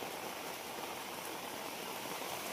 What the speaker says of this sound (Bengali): এরকম বৃষ্টি পড়তেছে মানে কোয়ার বাইরে রাস্তার উপর তো আড়ু পানি ফিরে গেছে গা।